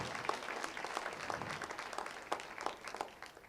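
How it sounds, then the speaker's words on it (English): An audience claps at a community health needs assessment event, a moderate, fairly quiet patter of many hands that swells slightly and then tapers off, with no talking over it. "You can give her a better clap than that."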